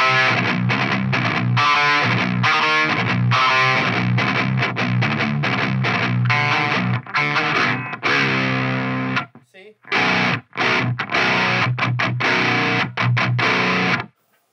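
A bass guitar, played dry before a Seymour Duncan 805 overdrive pedal, runs through a busy riff of quick plucked notes, loud and close, pausing briefly near the end with no voices.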